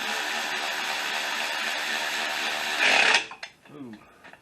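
A power tool runs bolts down on the alternator of a 2005 Honda Accord 2.4, one steady whirring run of about three seconds that ends in a brief louder surge, followed by a few faint clicks.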